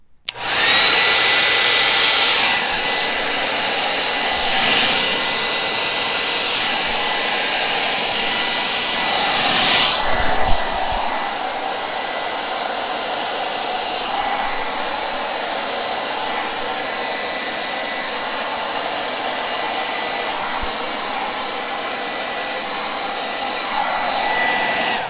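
A hair dryer fitted with a nozzle blows continuously across acrylic paint in a fluid-art pour, a loud steady whoosh that swells and dips as it is moved about, with no voices.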